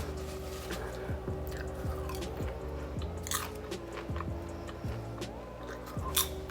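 Someone bites into and chews popcorn seasoned with onion salt, making close, repeated crunches in an uneven rhythm over soft background music, with no talking.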